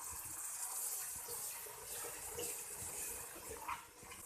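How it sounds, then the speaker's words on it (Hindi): Water splashed into roasted gram flour (besan) masala for black chana curry, a steady running, gushing pour heard close and alone throughout without talk. "अब हल्का सा मैं इसमें पानी का छींटा और लगाऊंगी।"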